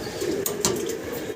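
Pigeons at a fancy pigeon market, soft close cooing rising and falling over a low steady background, with a couple of brief sharp knocks.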